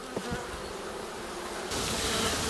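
A colony of black honeybees hums at the hive, a dense, close, continuous buzz that swells slightly louder partway through, with no voices.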